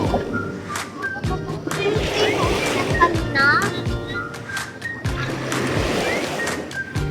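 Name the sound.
sea waves splashing during boat ride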